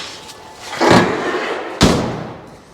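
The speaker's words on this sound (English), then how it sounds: "The door even opens." A 1955 Chevy two-door's car door is worked twice, two sharp slams about a second apart with a short creak of the hinge between, close and loud.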